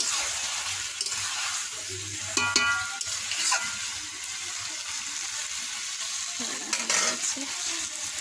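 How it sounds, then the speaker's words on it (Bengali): Chicken meat frying in a pan while being stirred, a steady soft sizzle with scraping and clinking of a utensil against the pan, plus a few brief water-like splashes. "মাংসটাকে ভালো করে নেড়ে নিয়ে এখন ঢাকা রেখে দেব।"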